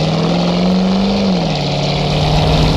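Squarebody Chevy V8 breathing through a Flowmaster American dual exhaust while driving, a loud, close, steady engine drone with a brief rise in pitch as it revs, then settling back into a deep continuous rumble.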